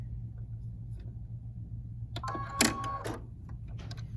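A sewing machine stitches a quilt block seam in a short burst of about a second, a buzzy run of needle strokes heard over a low, steady background hum.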